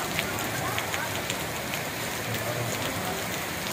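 Heavy rain pours down over Kadiri town, a dense, steady hiss that holds at one level throughout with no breaks, close and loud.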